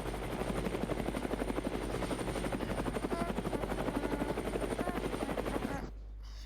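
A video game helicopter lifts off with a steady, fast rotor chop and engine whine, loud and continuous, then cuts off abruptly near the end; no one speaks.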